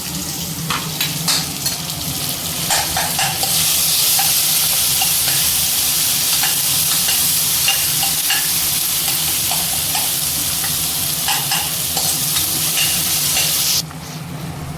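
Tomatoes and onions sauté in a pan for fragrant dal rice as chopped vegetables go in, a steady close sizzle that swells louder midway with repeated stirring scrapes, no talking.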